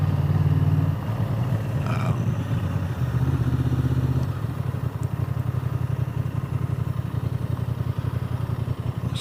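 A new Honda Transalp 750 motorcycle engine idles close by with a steady, even mid-pitched thrum and some mechanical clatter. A few louder revs or knocks come early on before it settles into a smooth, rhythmic idle.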